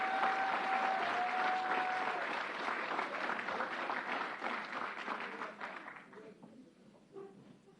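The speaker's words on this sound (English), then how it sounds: "Let's give them a big round of applause." Sustained audience applause at a state government press event on gun violence, loud and dense at first, then gradually thinning and fading toward the end, with no speech over it.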